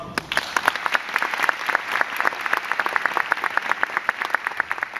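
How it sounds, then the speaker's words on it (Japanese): Audience applause for a volleyball team at a fan festival event, a dense, steady patter of many hands clapping throughout, moderately loud and without speech. "大きな拍手お願いします。"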